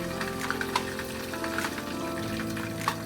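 Plantain slices fry in very hot oil, giving a steady bubbling sizzle with small crackles and pops, moderately loud and close, with no voices.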